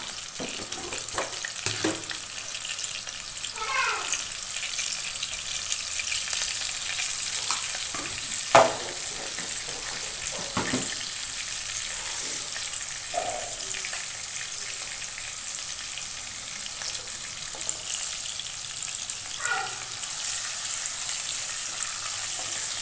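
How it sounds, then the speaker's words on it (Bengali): Potato pieces fry in plenty of oil in a pan, seasoned with a little salt and turmeric, giving a steady, continuous sizzle with occasional stirring scrapes and no talking. "আলু ভাজার জন্য তেলটা একটু বেশি দেওয়া আছে।"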